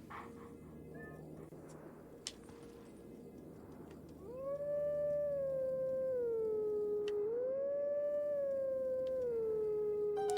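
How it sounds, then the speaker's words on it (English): Wolf Link in Zelda: Twilight Princess howls the Song of Healing, a long, loud, sustained howl sliding smoothly between pitches after a quieter stretch of ambient game sound. "this is the Song of Healing from Majora's Mask"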